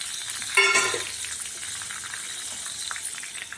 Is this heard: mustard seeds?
yes